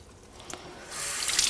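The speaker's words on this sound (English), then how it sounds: "Jason, turn on the water." Water runs from a sink tap, starting as a faint trickle with a couple of small splashes and then swelling into a steady, louder hiss of flowing water.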